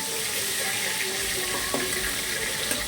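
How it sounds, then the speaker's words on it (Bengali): Magur catfish fry in a hot pan with a continuous, fairly loud hissing sizzle and a few small pops and crackles, close up and without talk. "ভালো করে মাছগুলো ভেজে নেবো লাল লাল করে"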